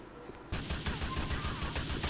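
A burst of rapid gunfire in the GTA 4 video game erupts after a quiet half second, loud repeated shots in quick succession with a faint voice beneath.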